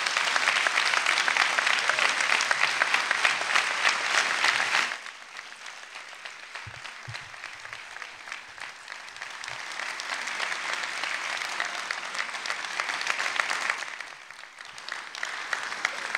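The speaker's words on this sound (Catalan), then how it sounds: "li demano un fort aplaudiment" Audience at a political gathering breaks into loud, dense applause that drops sharply after about five seconds, then continues more softly and swells again before tapering.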